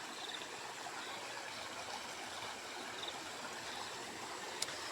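A stream flows steadily through fields in the Konkan, a constant soft rushing and trickling of water outdoors, with no voices and only a faint click near the end.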